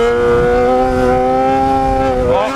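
A Yamaha XJ6 N motorcycle engine pulls hard in third gear, a loud, steady rising drone held close with no talk, its pitch climbing slightly near the end.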